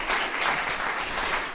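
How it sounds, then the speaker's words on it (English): Applause from an audience in an auditorium after a chamber orchestra concert, a dense, steady wash of many hands clapping close and loud throughout, with no talking. "adding the applause from the virtual audience to the physical audience in"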